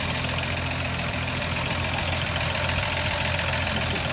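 Engine of a 1959 Rover P5 Mark 1 idling steadily throughout, a constant low rumble with a faint knocking texture, heard at a moderate distance with no talk over it.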